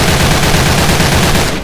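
An AK-103 rifle fires continuously from a crouch in the video game Special Force 2, a loud, rapid, unbroken stream of automatic shots at close range.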